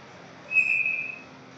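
Referee's whistle at a Senior AA provincial ice hockey game, a single short sharp blast stopping play for a high stick, heard faintly above the arena's background murmur.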